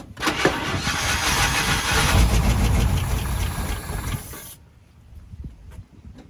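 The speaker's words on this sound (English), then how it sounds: "So we got it running." A 1972 International Scout II engine cranks, catches and runs loudly up close for about four seconds before dropping to a quieter idle.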